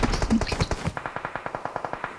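Rapid automatic gunfire in a video game, a fast regular burst of about a dozen sharp shots following a moment of talk.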